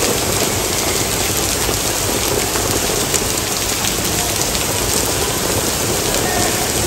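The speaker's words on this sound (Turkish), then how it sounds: "bir anda çok şiddetli yağmur bastırdı" Heavy rain pours down steadily on a street in Rome, a dense, loud, unbroken hiss of drops hitting the pavement, with no voices.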